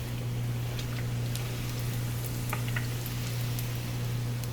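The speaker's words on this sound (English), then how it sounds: "you fry them on medium heat until they're golden brown" Trini accra bake dough frying in hot oil on medium heat, a steady soft sizzle with faint crackles over a low continuous hum, no talking.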